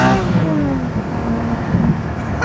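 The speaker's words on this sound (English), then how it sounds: "Oh, it sounds so good. And this is a stock exhaust." A Porsche Spyder with stock exhaust revs and rumbles close by, a steady throaty exhaust note with shifting pitch and no one talking.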